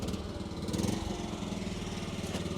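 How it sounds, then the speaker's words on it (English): A 1960 British-made BMW Isetta's small engine revs up briefly, a rough, pulsing buzz that swells early and then settles back to a throbbing idle, close by and on its own. "Rev the engine for me."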